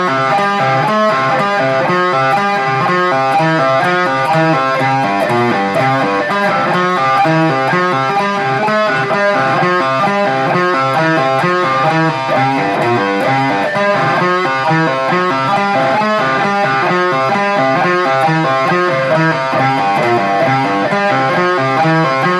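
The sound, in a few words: electric guitar lead riff played slow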